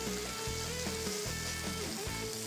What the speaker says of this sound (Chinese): 我们将豆干两边煎香